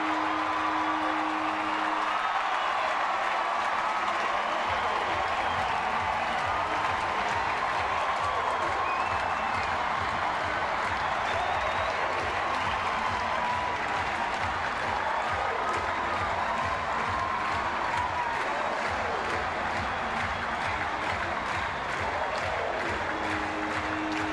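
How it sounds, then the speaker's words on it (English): Ballpark crowd at AT&T Park cheering and applauding a walk-off home run, a broad, sustained wash of clapping and crowd noise heard from a distance, steady throughout without clear individual voices. "Brandon Crawford's first home run of the year sends this crowd home"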